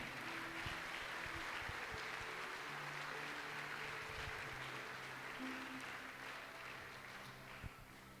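Church congregation applauding after a prayer, a steady, dense wash of clapping that holds evenly throughout with a faint background hum, easing slightly near the end.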